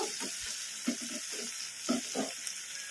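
Garlic paste frying in a kadai on medium flame, a steady soft sizzle with periodic stirring scrapes about every half second, close and fairly quiet.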